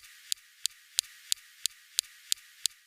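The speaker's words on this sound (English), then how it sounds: "Next, we have the SuperCam laser zapping rocks." SuperCam laser on a Mars rover zapping rocks, recorded on Mars: nine sharp, thin ticks at an even steady rhythm about three per second, faint and crisp against a quiet hiss, with no voices.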